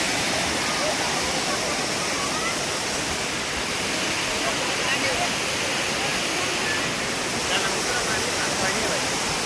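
A waterfall roars steadily and loudly, a dense unbroken rush of falling water filling the whole clip.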